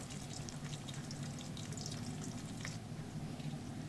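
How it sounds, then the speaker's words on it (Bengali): Pieces of sweet flour dough fry in hot oil with a steady, dense sizzling crackle. The sound stays even and close throughout, with a low bubbling underneath and no talking. "আমি বাকিগুলো তেলের মধ্যে দিয়ে দিচ্ছি। এভাবে আমি সবগুলোই ভেজে নেব।"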